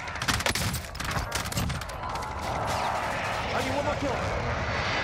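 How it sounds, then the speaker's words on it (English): A Warzone video game precision airstrike: sharp gunfire bursts early, then a sustained, loud broadband jet roar sweeping overhead for the rest of the clip, with a player's voice talking over it. "Be advised, friendly precision airstrike inbound."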